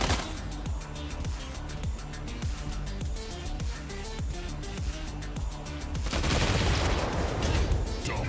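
Rapid, continuous gunfire from mechs battling in the mobile game Mech Arena, dense repeated shots with heavy low thumps, growing into a louder, noisier barrage of explosions near the end.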